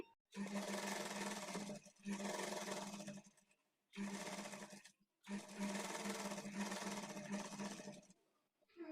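A sewing machine stitches the side joint of a blouse in several bursts of one to two seconds, close and fairly quiet, with brief gaps where the machine stops.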